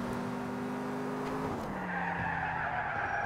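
A stolen car in a video game brakes hard, its engine note dropping in steps as the tires skid and squeal in a steady hiss that grows near the end.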